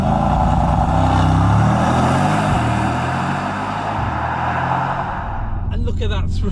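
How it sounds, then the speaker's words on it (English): A Mercedes-AMG E63 V8 launching under launch control, the engine roaring loud and close as revs climb through a rising harmonic sweep, with a brief gear-change dip before a voice speaks near the end. "let's do this launch control, put the car into race start"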